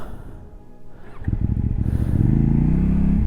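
A Kove 800X adventure motorcycle idles faintly, then its engine picks up into a loud, close, rough rasping drone with a choppy, stuttering pulse as traction control cuts the throttle.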